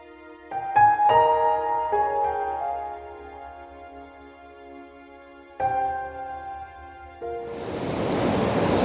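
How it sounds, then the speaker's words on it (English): Ocean waves wash in and recede through a rock channel at Turimetta, near Sydney, with a rising hiss of surf building toward the end, mixed with tonal sounds earlier on. "I'm waiting for these waves to come in and just start to recede"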